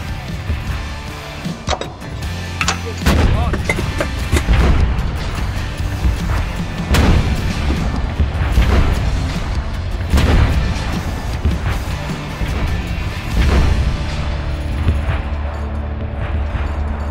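Artillery guns fire repeatedly in a dense, rumbling stretch of heavy booms and impacts. The sound is loud and continuous, with no speech.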